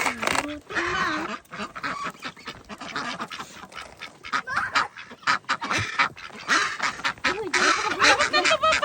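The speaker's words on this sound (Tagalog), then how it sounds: "si nanay ng pato" Ducks quacking and honking loudly up close in deep snow on a country homestead, with geese among them, a busy run of overlapping calls, and people talking over the birds.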